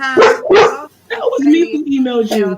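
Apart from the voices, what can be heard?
German Shepherd dog barking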